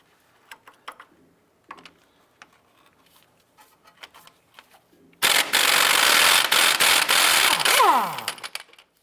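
Bolt being removed on a 2001-2005 Honda Civic during CV axle replacement: scattered light ratchet clicks and metal ticks, then a loud sustained whirring burst of a power tool that winds down.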